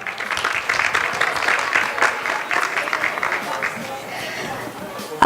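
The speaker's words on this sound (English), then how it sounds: "Can I request a round of applause for the speakers, please?" Audience applause for panel speakers at a maker conference, a steady dense clapping from a crowd that runs for about five seconds and fades slightly near the end.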